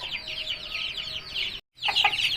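An aseel fighting rooster clucks in a continuous run of close calls, breaks off briefly, then gives sharper, louder clucks, with no talk.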